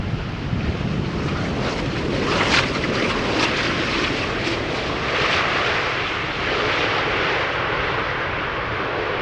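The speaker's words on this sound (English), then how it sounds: "It is the Kuehne and Nagel Atlas Air 747-8, arriving from Chicago, touching down after 7 hours and nearly 20 minutes of flight time." A Kuehne and Nagel Atlas Air Boeing 747-8 cargo jet arriving from Chicago touches down at Schiphol Airport, a steady broad roar of engines and wind rushing past, fairly loud and continuous with gusty microphone wind throughout.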